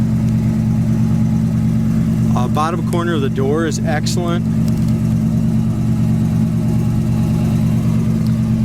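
Original numbers-matching 390 V8 in a white 1969 AMC AMX runs steadily at close range, its low even hum continuous throughout, with someone talking over it midway.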